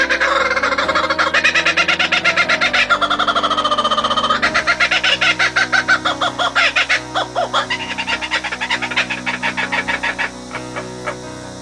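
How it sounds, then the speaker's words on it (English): Laughing kookaburras call in an Australian backyard, a loud, close chorus of rising cackles and rapid hooting chuckles that builds and rolls for several seconds before tapering off. "These are called laughing kookaburras. Again, listen to their call and you will understand why."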